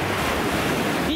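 Ocean waves washing onto the beach at Itoshima on a cold February day, a continuous loud surf rush with wind noise buffeting the microphone, no voices.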